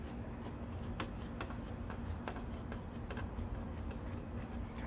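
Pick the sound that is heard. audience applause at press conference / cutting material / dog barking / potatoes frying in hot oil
cutting material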